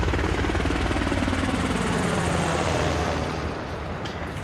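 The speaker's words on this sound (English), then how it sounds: "I think it's a real chopper." A helicopter flies in a TV series scene about Waco, its loud, continuous rotor and engine roar filling the whole stretch before easing slightly toward the end.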